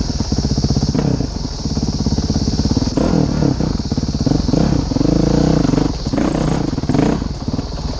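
A modded 2011 Honda CRF 450X dirt bike pulls hard in second gear on a trail, its loud, close engine roaring steadily throughout with surging revs and some mechanical clatter.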